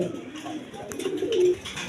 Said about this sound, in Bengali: এখানে এক পেয়ার বন্ডিনের কবুতর আছে